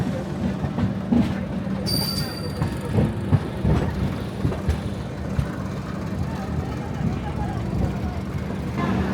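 A train rumbles and clatters through Kamakhya railway junction near Guwahati, steady wheel noise with clicks and a brief high squeal, while people talk over it.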